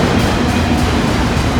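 A train rolls past close by beside a site where a burned-down gray building once stood, a steady loud rumble of wheels and cars with no break across the whole stretch.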